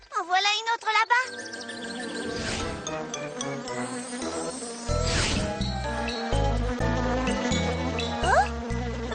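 Cartoon bees buzz and whine in a French animated show, the sound drifting in and out over bright, tinkly background music with a few rising zips.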